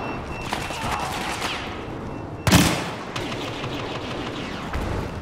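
Burst fire from an EE-4 weapon in a video game's Bespin DLC sabotage mode: one loud, sharp burst midway over constant background battle noise, with no talking.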